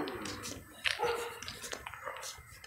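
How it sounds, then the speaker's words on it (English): Dogs barking around a residential neighborhood during an outdoor walk, a few short barks and yips at a distance, mixed with street ambience and faint voices. "Well, one dog barks, they all gotta bark."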